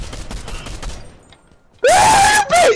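Video game gunfire in a multiplayer shooter, a soft patter of distant shots followed by two loud, close bursts of rapid fire near the end.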